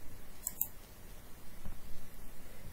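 Two quick, close computer mouse clicks while selecting notes in MuseScore music notation software, followed by quiet room tone with no voice.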